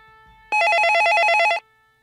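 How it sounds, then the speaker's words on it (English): An office desk phone rings loudly with a rapid trilling electronic bell, a single ring lasting about a second, alone in a quiet room. "Nobody ever calls my desk phone."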